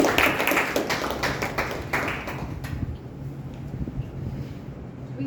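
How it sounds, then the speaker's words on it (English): Audience applause at a Toastmasters club meeting for the evening's role players, a dense patter of many hands that is strongest early on and then thins into a softer, scattered clapping over steady room noise. "A big round of applause to all the role players for this meeting"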